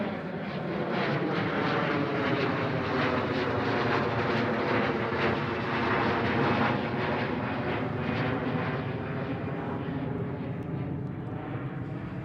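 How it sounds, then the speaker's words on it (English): A China Airlines Boeing 747 cargo plane roars at Schiphol Airport as a continuous, broad engine rumble with a slowly shifting tone. The sound stays steady and fairly distant for about twelve seconds, with no talk over it. "A 747 China Airlines cargo."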